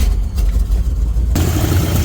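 Engine of a 1972 Chevy C20 pickup runs after a spark plug cleaning, a loud, close, low rumble that jumps to a brighter, rougher roar partway through.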